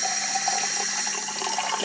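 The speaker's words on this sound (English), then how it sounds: "You fill it up with some water" A bottle being filled with water from a tap for cleaning a fursuit, a steady continuous rush of running water close by, with no talking.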